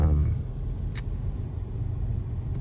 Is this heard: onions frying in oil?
no